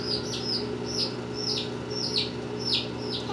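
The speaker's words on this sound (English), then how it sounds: "There's my chicken." A small pet chicken chirps and peeps in short, repeated high calls, about two each second, close to the microphone over a low, steady background hum.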